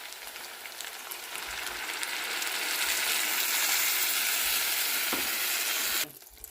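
Loud, steady sizzling and crackling as tamarind water hits hot fried spices in a pan for Telangana-style fish curry, swelling over a few seconds and then cut off abruptly near the end.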